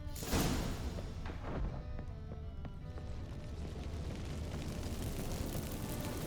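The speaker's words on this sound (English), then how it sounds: "Get ready for some magic fireworks." Magic fireworks erupt from activated incense in The Witcher 3: Wild Hunt, opening with a sharp burst and a rushing roar, then a faint hiss with scattered small pops settling into a steady crackling wash.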